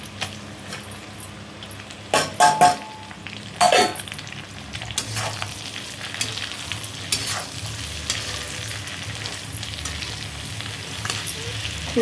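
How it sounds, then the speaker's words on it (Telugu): Onions, green chillies, curry leaves and coriander sizzle steadily in hot oil in a home kitchen pan, with a few sharp stirring clatters of a spoon against the pan early on. "తర్వాత వచ్చేసి పచ్చిమిర్చి, కరివేపాకు, కొత్తిమీర ఇవి వేగుతూ ఉన్నాయి చూడండి"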